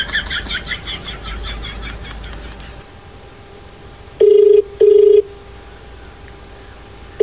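Two short electronic telephone ringing tones sound in quick succession over a quiet background, following a brief stretch of faint keypad-like beeps.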